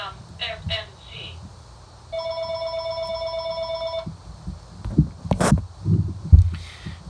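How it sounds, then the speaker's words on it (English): A phone rings in a single steady electronic burst of about two seconds in the middle. Faint talk and handling noises come before it, and thumps and clatter follow. "Sorry about the phone call."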